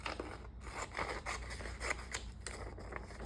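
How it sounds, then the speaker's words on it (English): Large scissors snipping through paper for a collage, a steady series of close, crisp cuts and scraping blade strokes filling the clip with no talking. "And then I'm going to use my big scissors."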